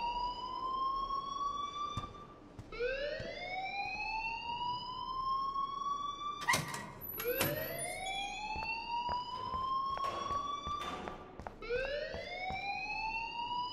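Fire alarm in the video game Life Is Strange, a loud electronic siren whooping in repeated rising sweeps that cycle steadily throughout with no talk.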